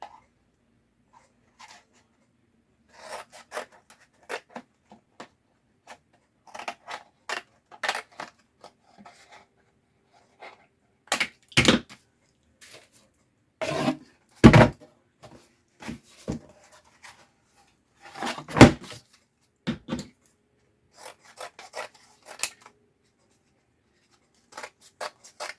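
Scissors snip through food packaging in short, sparse bursts of crisp cuts and rustles, fairly close and quiet, with pauses between the cuts and no talking.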